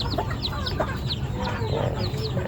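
A mother hen clucks while checking on her chick, giving repeated short, close calls over a steady background of other chicken noise.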